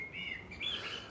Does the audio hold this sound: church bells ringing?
no